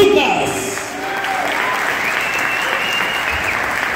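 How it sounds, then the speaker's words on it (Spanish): Sustained applause from a crowd at a village fiesta in Corral Falso, Guerrero, steady and fairly loud throughout, with voices and cheers mixed in. "te vamos a agradecer con un fuerte aplauso al señor Alex"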